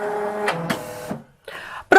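A Silhouette Curio craft machine switches on with a short sequence of close mechanical whirs and clicks, a brief motor hum, a pause, then a sharper final start-up sound.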